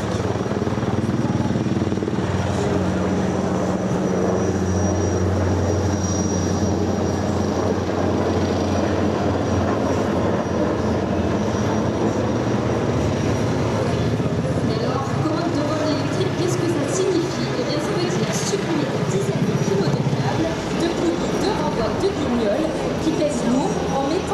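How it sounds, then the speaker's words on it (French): An NH-90 Caïman helicopter of the French Navy roars steadily through an air show demonstration at Hyères, a loud continuous engine and rotor drone under an announcer's commentary over the loudspeakers. "un hélicoptère de nouvelle génération, doté des derniers équipements, un hélicoptère de haute technologie"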